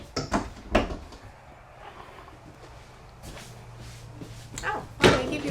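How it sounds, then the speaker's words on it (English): Soft-close cabinet doors in a 2026 Grand Design Reflection 100 Series 24RL RV, a few soft knocks and thuds of doors easing shut, with a couple of louder clicks near the start and end in a quiet interior. "They still give you soft close cabinet doors."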